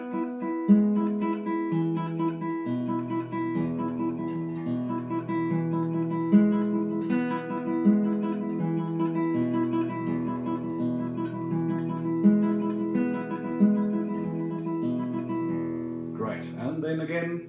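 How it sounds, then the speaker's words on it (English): A guitar tremolo-style arpeggio is picked with the thumb running up and down the strings, steady repeated plucked notes flowing evenly for many seconds, close, with a brief scrape near the end. "play the thumb once on each string, creating an arpeggio where you basically run up and down your strings"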